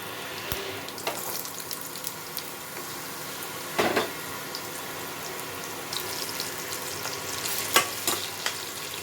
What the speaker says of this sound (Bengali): ওখানে আমি টুকরো করে আলুটা ভেজে নেব।